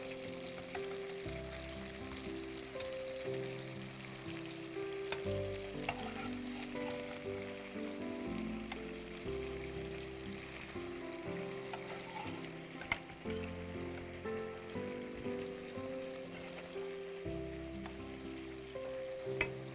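Chicken sizzles gently in yogurt in a pot while being fried for yakhni, a soft continuous hiss with faint stirring under low background tones, fairly quiet throughout.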